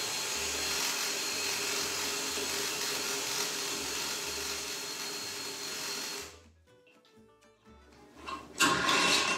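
An oxygenation spinner whirs loudly and steadily as it whips wort in a fermenter for about six seconds, then cuts out, leaving faint sloshing and dripping before a brief rustling burst.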